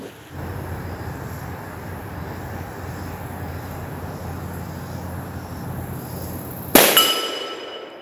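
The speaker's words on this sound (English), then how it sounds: "It's an 8-inch steel gong, maybe 10-inch, I think it's 8." A .45 Colt revolver firing a heavy cast 405-grain round-nose bullet offhand at an 8-inch steel gong: one sharp, loud report near the end, preceded by steady outdoor background noise.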